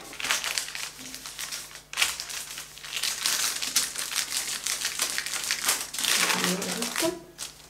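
Baking paper crinkles and rustles steadily while healthy homemade chocolate bar mixture is spread over it, a close, continuous papery crackle with no talking.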